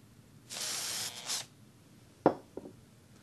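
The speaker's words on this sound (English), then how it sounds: "A little bit of spray." A short burst of aerosol spray hisses for about a second onto tufting foam, followed by a couple of small clicks and taps.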